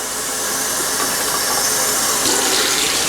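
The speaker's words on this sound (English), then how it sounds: "I'll just take the water from the sink and we'll put that to a boil." Water gushes steadily from a kitchen sink tap into a pot, a loud, close, continuous hiss and splash with no talk.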